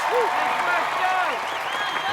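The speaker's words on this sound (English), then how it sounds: "Alyssa Beard and Jesse Graff among the many ninjas cheering him on" A crowd of ninjas applauds and cheers at an American Ninja Warrior USA vs The World competition, a loud, steady wash of clapping and shouts with no break.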